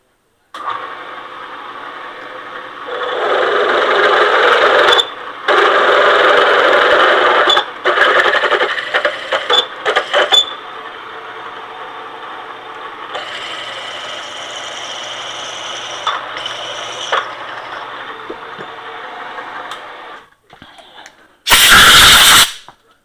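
A drill turning a large bit held in a collet rather than a chuck, with several long bursts of loud, steady whirring, short pauses between them and a brief harsh burst near the end.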